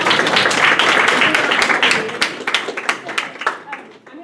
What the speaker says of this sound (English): A round of applause for the group.